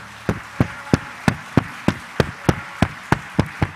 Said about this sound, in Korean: 우리 부모님들 위해서 다시 한번 박수 한번 할까요?